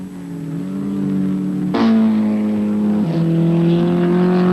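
An Alfa Romeo GTA and a Ford Cortina race through the S's at Sandown, their engines droning loudly, one rising in pitch as the cars pass, with a gear change and steady high revs, close by.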